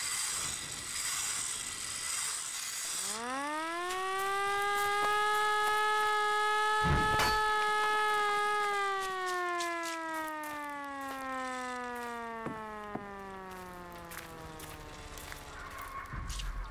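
A siren in the indie horror game Mother of Sorrows rises from low to a loud, sustained wail, then slowly falls in pitch and fades, with a heavy thud near the middle and no voices.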